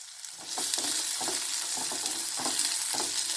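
Small onions sauté in oil in a pan, giving a steady close sizzle. A spoon stirs and scrapes at a regular rhythm of roughly two strokes per second, with no talking.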